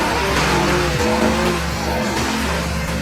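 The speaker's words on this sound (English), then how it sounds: "And just then, the engine finally started." A Mercedes-Benz W140 engine, left abandoned for 18 years, running after finally starting, with a steady low rumble and harmonic drone throughout, loud and close with no talk.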